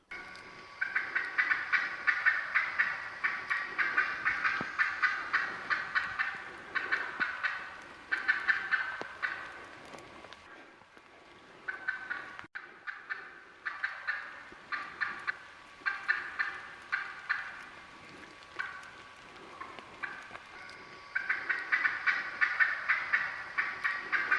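A wild turkey hen recorded on tape, calling in fast, intense runs of raspy yelps separated by short pauses, fairly close, with no voices.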